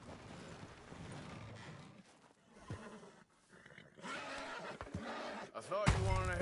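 A horse in the Red Dead Redemption 2 video game neighs near the end, a loud rising whinny after quieter game ambience and brief low voices.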